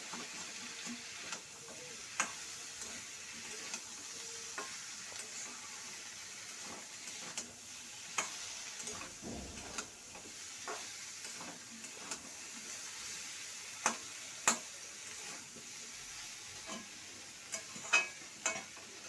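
Drumstick stems being sautéed in a pan, with a soft, low sizzle and regular light ticks and scrapes of a spatula stirring throughout, fairly faint and without talk.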